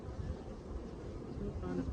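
Honeybees hum steadily around an open hive fitted with Varroa mite strips, a low continuous buzz with some wind rumble and no clear voices.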